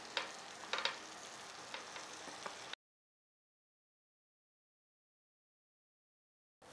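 A chicken wrap fries in butter over a low flame, giving a soft, steady sizzle with a couple of small crackles for nearly three seconds before it cuts to silence.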